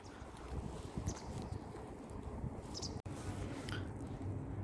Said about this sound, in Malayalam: ഇതിൽ കാറ്റിൻ്റെ സൗണ്ടും കേൾക്കാൻ ചാൻസ് ഉണ്ട്. കാരണം നല്ല കാറ്റടിക്കുന്നുണ്ട്, തണുത്ത കാറ്റ്.